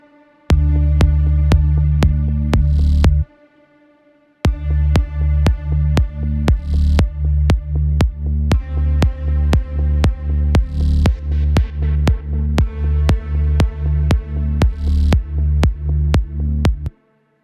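Deep synth sub bass pulsing in steady rhythmic notes, with an automated bandpass filter sweeping its tone brighter and darker; loud and upfront, briefly dropping out after the first few seconds before the pattern resumes.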